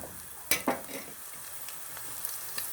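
Cabbage pancake batter sizzling steadily in a hot frying pan, with a couple of sharp utensil scrapes or stirs near the start and continuous close crackle throughout.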